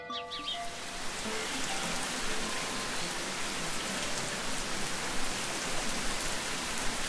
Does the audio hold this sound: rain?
yes